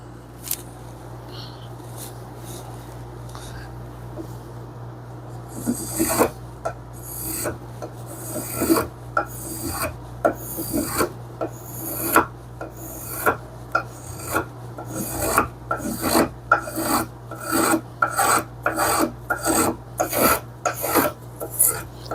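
A hand spokeshave takes fine shavings from a wooden workpiece in a cramped small shop, giving a steady series of close, rhythmic rasping strokes after a quieter opening, with a low hum running underneath.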